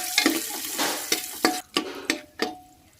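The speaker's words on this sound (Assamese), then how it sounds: "এতিয়া মই খন্তি এখনেৰে ভালদৰে লৰাই ল'ম" A spatula stirs popcorn with melted butter in a hot pan, giving about seven distinct scraping strokes close up over a steady sizzle and frying hiss.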